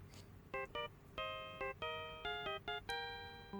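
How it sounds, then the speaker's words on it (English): Familiar phone ringtone in a courtroom video game, a quiet chiming melody of short bright notes in an uneven rhythm, playing alone over faint background hum. "there's that familiar tune. I like that ringtone."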